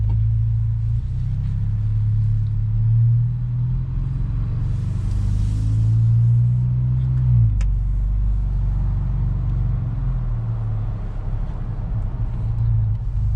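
Ford Bronco fitted with an AWE catback exhaust cruising on the road, a steady deep low rumble that stays smooth and restrained throughout, with no hard revving, heard from inside the cabin.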